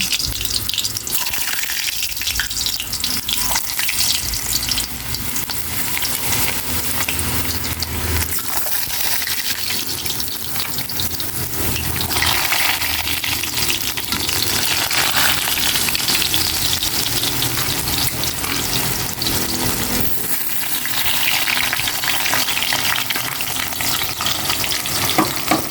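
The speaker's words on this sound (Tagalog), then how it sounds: "I-prito ko muna tong kamuti," Sweet potato frying in hot oil in a pan, a loud, steady sizzle that crackles and surges continuously with occasional stirring, close up and with almost no talk.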